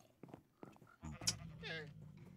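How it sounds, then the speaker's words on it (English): Minecraft sheep bleat faintly and briefly in a sheep pit where a llama has wandered in, a short wavering bleat heard amid quiet game sounds and a player talking. "One of the llamas went into the sheep pit."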